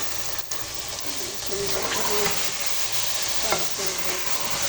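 Rice and chicken for a Saudi-style biryani sizzle and get stirred in a hot pan, a steady frying hiss under intermittent scraping strokes, fairly close with no talk.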